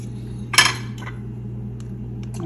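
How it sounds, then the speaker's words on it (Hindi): A metal pan is set down on the stove to cook restaurant-style butter paneer masala, one sharp clank followed by faint clinks over a steady low hum. "तो यहाँ जी एक दूसरा पैन ले लिया, उसमें डालेंगे ऑयल।"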